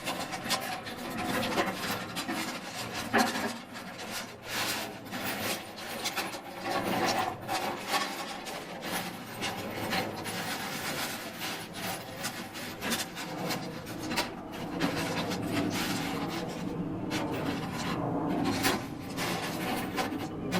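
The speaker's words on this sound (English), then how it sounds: "putting the lava rocks in the grill converter, the key thing is that you want to spread it out evenly" Lava rocks spread by hand across a grill converter, a continuous close crunching and rattling of rough stones shuffling against each other and the metal tray, steady with small bursts throughout.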